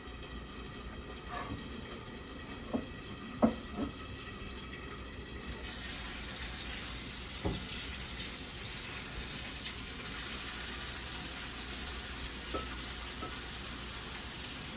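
Fish and rice with peas sizzle and bubble steadily in hot frying pans over a fire, a dense crackling hiss that grows brighter midway, with occasional clinks of utensils.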